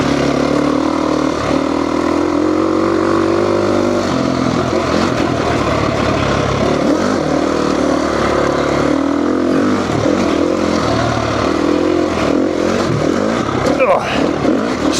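A KTM 350 dirt bike engine on a test ride drones loudly and steadily throughout, its pitch rising and falling as the throttle changes, with a rider speaking over it.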